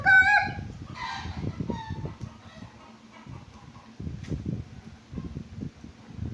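A rooster crows loudly at the start, followed by scattered clucking and rustling from nearby birds.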